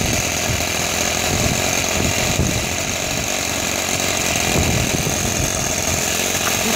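A live diesel engine on a garden railway model locomotive runs steadily up close, a continuous rough mechanical chug that holds at an even level throughout without a break.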